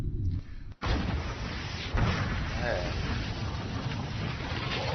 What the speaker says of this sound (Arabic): صوت قوي جدا، صوت انفجار فعلا بالفعل